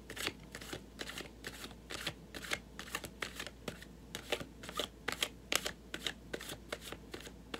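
Tarot cards riffled and flicked in quick repeated bursts, a close, quiet papery shuffling with soft snaps as cards are drawn, heard alone without speech.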